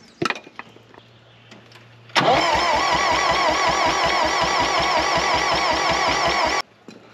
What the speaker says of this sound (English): Let's watch the valves while it turns over.